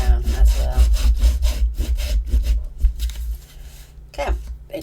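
Hand rubbing firmly down a folded paper display card, a close, rhythmic series of brisk scraping strokes with a quick back-and-forth pace, and a voice speaking in the background.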